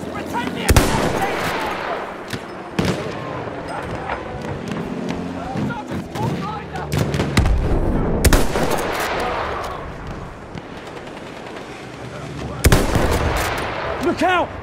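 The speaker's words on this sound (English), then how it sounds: "Look out! Machine gun!" Machine gun fire in a video game battle, sharp bursts and single loud cracks scattered among shouted voices and chaotic combat noise, heaviest near the start and end.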